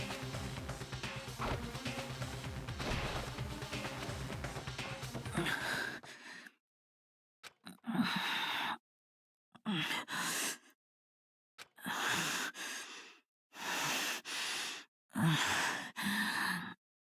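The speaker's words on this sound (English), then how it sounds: "He's panting right into my ears." A character in the Danganronpa video game pants, heavy breathy gasps coming in repeated bursts separated by short silences, loud and close, after a stretch of dense background music.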